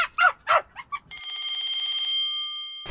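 Several sharp, yappy barks from a small dog named Millie, followed by a loud, steady ringing bell tone that sustains and then fades.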